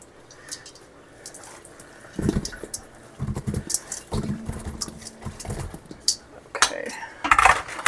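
Strawberries are rinsed in water in small batches for jam, with splashing, drips and clinks of a bowl and utensils at close range, irregular and growing busier toward the end.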